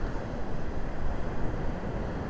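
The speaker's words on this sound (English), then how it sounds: "We're actually getting some wave action here at Lake Erie" Strong wind pushes waves onto a Lake Erie beach, a steady, dense wash of surf mixed with gusting wind buffeting the microphone, close and continuous without a break.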